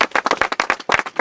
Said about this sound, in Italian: un applauso per Acquaria.